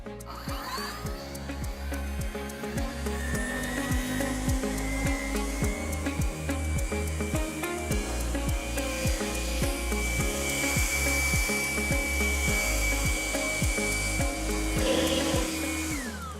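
A Cobra LB55040VX battery leaf blower runs steadily and close for the whole stretch, a continuous whooshing drone with a faint rising whine and regular ticking underneath.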